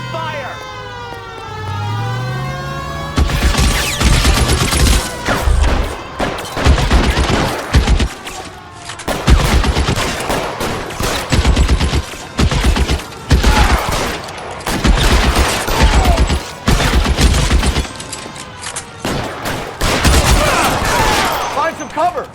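Dense gunfire fusillade in the video game L.A. Noire, rapid bursts of shots repeating loudly for many seconds after a brief stretch of voices, with sirens wailing underneath and shouted speech between volleys.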